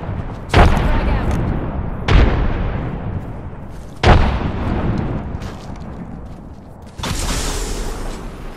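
Frag grenade explosions in a video game boom loudly in four separate blasts, each a sharp thump followed by a long decaying rumble, spaced about two seconds apart.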